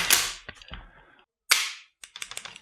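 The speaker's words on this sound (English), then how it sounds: "now when I release the trigger, you will hear a shot fired again" A WE 416 M4 airsoft rifle fires sharp, snappy shots: a first crack, a second one about a second and a half later, then a quick run of smaller clicks and rattles from the mechanism, close and alone.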